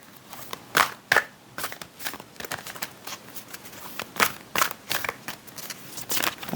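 Close, papery riffling and crackling of cards being handled and shuffled in uneven bursts over a steady background hiss.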